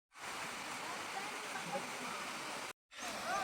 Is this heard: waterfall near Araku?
yes